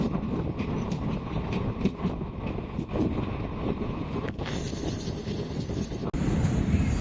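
A Tambaram–Bodinayakanur Express train rolls along with a steady, heavy rumble and rattling noise throughout, close by, with no voices.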